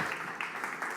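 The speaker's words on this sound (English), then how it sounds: "So a big, warm round of applause" Applause from a conference audience greeting a speaker, a faint, steady patter of many hands clapping at a distance, with a few louder bursts.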